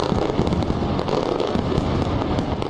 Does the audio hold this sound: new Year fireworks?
yes